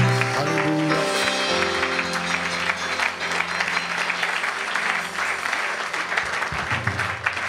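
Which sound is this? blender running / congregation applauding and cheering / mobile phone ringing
congregation applauding and cheering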